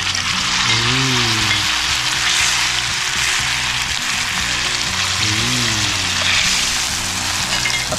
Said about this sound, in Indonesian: Tinggal kita goreng.